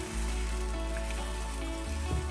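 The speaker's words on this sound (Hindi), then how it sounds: "अब इसको 5 मिनट के लिए हम भूनेंगे" Biryani ingredients sautéing in a pot, giving off a soft continuous sizzle and low hiss, steady and fairly quiet for a couple of seconds.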